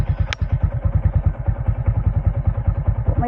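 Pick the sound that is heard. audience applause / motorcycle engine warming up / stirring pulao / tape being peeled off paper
motorcycle engine warming up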